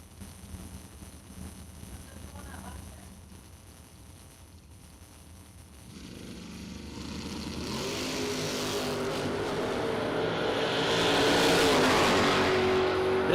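A 1969 Camaro at a drag strip starting line, its engine idling and burbling, then building into a loud, sustained roar that swells steadily as it launches and pulls away.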